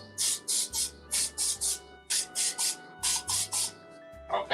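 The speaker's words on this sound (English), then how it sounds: "we're going to spray our filling with some Pam" Pam cooking spray hisses onto muffin filling in about a dozen short, sharp bursts grouped in threes, close and clear with no talk.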